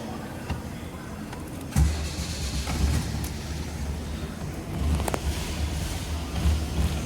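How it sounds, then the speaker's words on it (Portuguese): A car under repair is started: an abrupt crank catches, and a low engine rumble keeps running close by, swelling slightly toward the end. "Vou ligar o carro aí agora."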